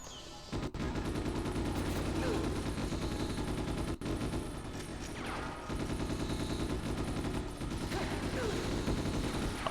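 Video game gunfire, dense rapid automatic bursts that are sustained and loud almost throughout, with brief pauses and game effects mixed in.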